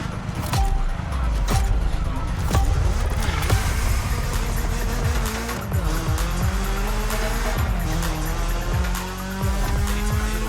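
A lightweight, high-horsepower BMW M3 races in The Crew Motorfest, its engine revving up and down through gear shifts. Tire squeal and skidding mix in, and the car noise stays loud and continuous throughout.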